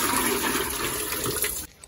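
Water gushes loud and close from a household tap that no longer closes, a steady rushing stream that cuts off abruptly near the end.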